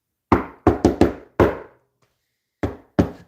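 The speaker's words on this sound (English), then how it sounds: "when I do this knock" Rhythmic knocking on a door, seven sharp close knocks: a quick patterned run of five followed by a pause and two more, each ringing out briefly.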